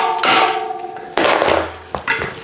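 Sharp metallic hammer blows knocking out a badly worn wheel bearing, about three loud ringing strikes spaced unevenly, close and alone.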